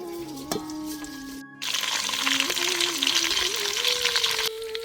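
Curry leaves and chillies hit hot oil in a kadhi tempering, with a sudden loud, steady sizzle that carries on for a few seconds after a quieter opening.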